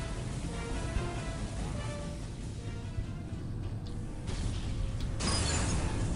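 Doors open in the Star Trek: Elite Force II video game with a loud, continuous mechanical grinding and creaking whir that swells slightly toward the end and plays without talk.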